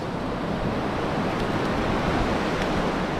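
Steady, loud wind roars with ocean surf at New Smyrna Beach, a continuous broadband rush of wind buffeting the microphone over breaking waves, with no voices.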